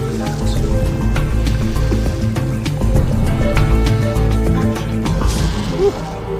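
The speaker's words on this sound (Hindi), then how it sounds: "मुझे अपने पैरों के नीचे बहते पानी की आवाज सुनाई दे रही है।" Steady flowing water rushing around the feet of someone wading a cold Siberian river, close and continuous with small drips and splashes over a low broadband wash.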